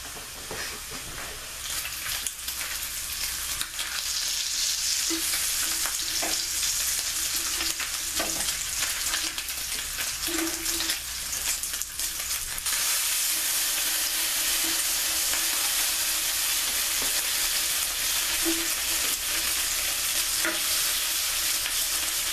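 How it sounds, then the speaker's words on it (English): Bacon sizzles and crackles steadily in a pan with no added oil, cooking for fried cabbage, a continuous bright frying hiss with occasional pops and stirring sounds, close up and with no talk. "We're not gonna be adding any oil. Bacon creates its own oil."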